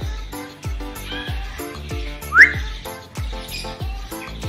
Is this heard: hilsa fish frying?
no